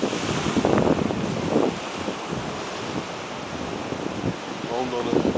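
Sea waves wash up onto a rocky shore in a steady, close rush of surf, with heavy wind noise on the microphone and faint voices in the background.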